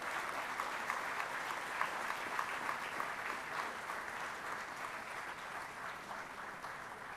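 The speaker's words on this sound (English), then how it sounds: "Let's have a big round of applause" Audience at an annual session breaking into sustained applause, a dense steady wash of many hands clapping at even volume throughout, with no voices over it.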